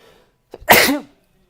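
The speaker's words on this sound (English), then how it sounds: "Man, sneezing today." One loud, close sneeze with a quick intake of breath just before it, standing alone in an otherwise quiet moment.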